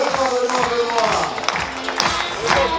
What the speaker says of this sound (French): vous pouvez vous lever et applaudir l'ami Benoît